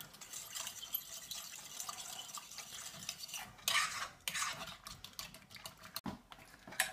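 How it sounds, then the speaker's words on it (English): A fork stirs yeast, flour and sugar into warm milk for doughnut dough, its tines clinking and scraping steadily against the bowl, with a few sharper knocks near the end. "put your yeast, flour and sugar mix into the milk and mix it in well with a fork"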